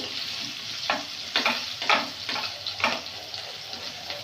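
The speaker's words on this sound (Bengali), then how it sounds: "ভালো করে ভাজা ভাজা করে নেব।" Onion, garlic and ginger fry in hot oil in a wok, crackling and sizzling close by, with a few sharp stirring scrapes breaking through the steady sizzle.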